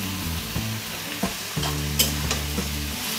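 Mixed vegetables frying and sizzling in a pan, with a steady close sizzle and a few stirring scrapes and clinks throughout.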